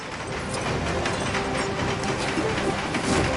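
Train in the Lego Marvel Superheroes 2 video game, heard as a steady, moderately quiet rattling, clanking mechanical run with rhythmic ratchet-like clicks, continuous and without voices.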